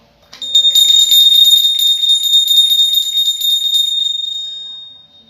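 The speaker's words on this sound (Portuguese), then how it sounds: "Eu vou acionar o meu sino para começar esse outro assunto" A small hand bell rung once by a preacher to open a new topic, its bright sustained ring shimmering and slowly fading over several seconds, alone with no talk.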